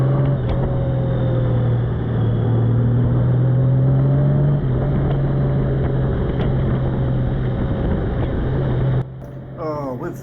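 Honda Goldwing motorcycle cruising on a drier road, a steady smooth engine drone with a constant low hum and wind rush, held evenly for most of the stretch before dropping slightly near the end.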